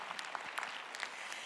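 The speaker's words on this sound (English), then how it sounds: "we can applaud the first-time guests" Audience at a service clapping for first-time guests, soft scattered applause with brief irregular claps, moderately distant and fairly quiet.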